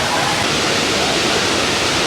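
Waterfall at Thirparappu roaring as a dense, steady rush of falling water, loud and close, filling the whole moment without a break.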